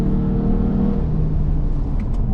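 A VW Arteon Shooting Brake plug-in hybrid wagon is driven on the Nürburgring in GTE mode, its engine a steady loud in-cabin drone with a low rumble, and a faint whine at the end.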